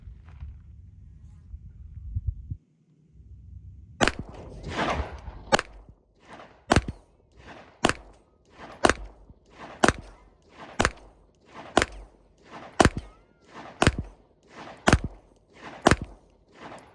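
A Noveske Glock pistol fires a whole magazine slowly, about a dozen sharp, loud shots spaced evenly roughly a second apart, each ringing briefly before the next.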